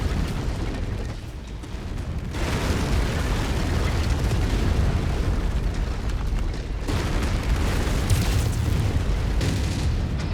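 A base being blown apart in MechWarrior 5, a dense run of loud booming explosions and crackling bursts rolling continuously with heavy low rumble, no voices over it.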